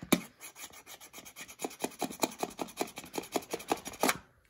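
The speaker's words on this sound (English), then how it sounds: "I wonder how much scratching this can withstand." A fake Nintendo NES controller gets scratched with quick, even rasping strokes, about four per second. The strokes are close and fairly loud, with no voices, and end with a final harder scrape.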